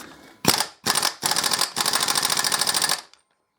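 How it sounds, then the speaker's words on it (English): A pneumatic rattle gun (impact wrench) hammers at a nut during a Harley-Davidson Deuce trike conversion, firing three short rapid bursts and then one longer burst, loud and close. "Because I've got no way of holding it, I'm just going to use rattle gun."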